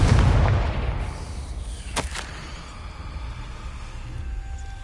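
A Confringo blasting spell explodes in the Hogwarts Legacy video game, a loud booming burst at the start that rumbles and decays, followed by a sharp crack and a fading tail.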